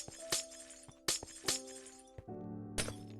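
Minecraft glass blocks breaking in a handful of quick, sharp shattering bursts, some over a low steady tone from the game.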